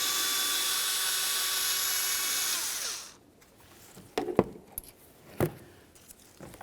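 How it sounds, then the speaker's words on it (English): A power tool spins out the ignition coil mounting bolt on a 2007-2017 Ford Expedition, a steady high whir that winds down and stops, followed by a few sharp metallic clicks and clanks of the bolt and tool. "Next, we're going to remove our ignition coil mounting bolt."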